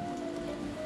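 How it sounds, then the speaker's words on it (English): Heavy rain falls in a steady, dense patter on a surface, a brief, even wash of sound with no voices. "No thunder or lightning yet, but it is raining pretty hard."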